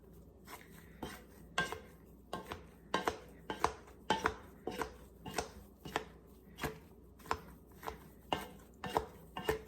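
Boiled potatoes being mashed with a masher, a steady series of soft, squelchy thumps and presses repeating about once or twice a second, close by and alone.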